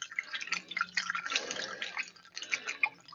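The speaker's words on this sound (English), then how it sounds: "I pull the funnel up so I don't get an airlock and start bubbling and spitting out where I'm pouring in" Coolant pouring through a funnel into the cooling system of a 1992 Dodge Dakota with a 5.2 engine, a steady close trickle and splash of liquid with small dripping and gurgling bursts throughout.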